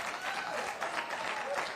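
Brief, fairly faint audience applause at a political assembly, a steady wash of clapping with no clear gaps, lasting under two seconds.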